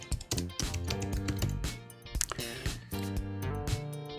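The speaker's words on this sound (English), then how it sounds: "I'm just going to type in my name." Someone types a name on a Mac computer keyboard, giving quick, irregular key clicks close by. Soft music plays underneath the tapping, and no one speaks.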